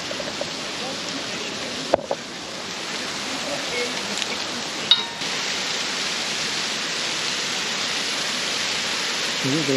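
Steady rushing roar of a waterfall on the Mürren via ferrata in the Swiss Alps, a constant broadband wash with a couple of faint clinks of climbing gear.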